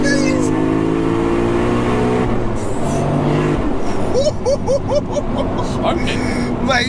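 1100hp 2JZ turbo Lexus pulling hard in third gear, a loud rising engine roar with turbo whine and rapid shifts of pitch, heard from inside the car with voices talking over it.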